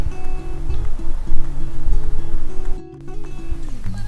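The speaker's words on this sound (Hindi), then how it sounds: "इतनी ऊपर से पानी गिरता है" Water crashing down from the 140-metre Geneva jet fountain, a loud, continuous rushing spray close by with a low engine-like hum running underneath.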